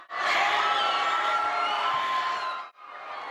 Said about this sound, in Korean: 미소를 짓는 오타니를 본 팬들은 엄청난 환호를 쏟아냅니다